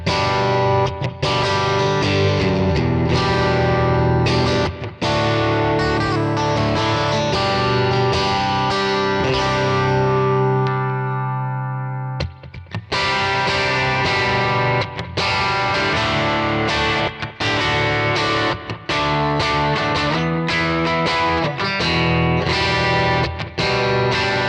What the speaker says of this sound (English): That red, modern rock machine is now a Liberace Gold